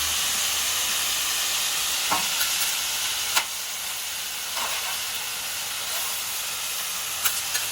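Constant hissing steam and sizzle from cabbage frying in oil and water in a hot pan, with a few sharp clicks and scrapes of a spatula stirring scattered throughout.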